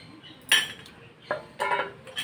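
A spoon clinks against a bowl while curd is mixed with milk powder, giving a few sharp metallic taps with brief scraping between them.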